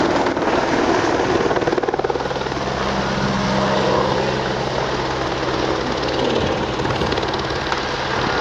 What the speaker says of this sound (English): The rapid rotation of helicopter blades generates extremely powerful airflow capable of throwing debris and damaging nearby structures or vehicles.